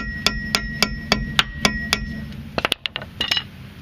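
Hammer blows strike the steel sleeve of a rear shock absorber on a 2001-2006 Hyundai Santa Fe, about ten sharp metallic whacks in a steady rhythm, close and loud, followed by quicker lighter clinks.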